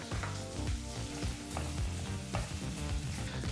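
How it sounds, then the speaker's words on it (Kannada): Finely chopped onion frying in hot sunflower oil over a medium flame, a loud, dense, continuous sizzle heard up close with soft scraping strokes of a spoon stirring through it. "ಬಿಸಿಯಾದಂಥ ಎಣ್ಣೆಗೆ ಈ ರೀತಿ ಭಾಳ ಚಿಕ್ಕದಾಗಿ ಕಟ್ ಮಾಡಿದಂಥ ಒಂದು ಈರುಳ್ಳಿನ ಹಾಕಿ ಎರಡು ನಿಮಿಷಗಳ ಕಾಲ ಮೀಡಿಯಂ ಫ್ಲೇಮ್ನಲ್ಲೇ ಫ್ರೈ ಮಾಡ್ಕೋಬೇಕಾಗತ್ತೆ"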